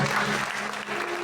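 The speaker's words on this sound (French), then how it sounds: "On applaudit le Seigneur." Pentecostal church congregation at an anniversary service claps for the Lord, a short burst of steady, fairly loud crowd clapping lasting just over a second.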